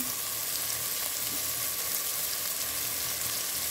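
Turmeric dropped into hot oil in a pan, producing a continuous hissing sizzle that holds evenly from start to finish, close and fairly soft, with no voices.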